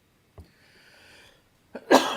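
After a faint tap and a quiet hum, one sharp, close cough bursts out and trails off.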